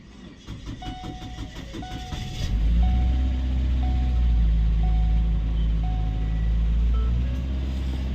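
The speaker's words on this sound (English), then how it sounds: "Alright guys, let's start the car." A 2014 Ford Escape cranks and catches after a few seconds. Regular chime beeps sound throughout, then the engine settles into a steady, loud idle up close.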